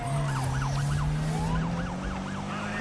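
A wailing police car siren in the Need For Speed video game sweeps up and down repeatedly over a steady engine hum, loud and close, like a pursuit.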